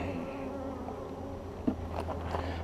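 Honeybees swarm around an opened backyard hive, a close, steady droning buzz with a few brief knocks and rustles from the hive being handled.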